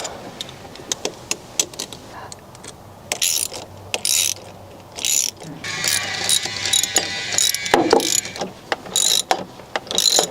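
A ratchet tightening an intercooler pipe clamp on a 6.0L Powerstroke diesel, a close, steady run of rapid clicking that grows busier and louder toward the end, with no talking.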